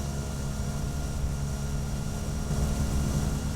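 Cessna Caravan single-engine turboprop in a flight simulator game, flying through rain and thunderstorms; a steady, loud, continuous engine drone with a low propeller hum holds without a break.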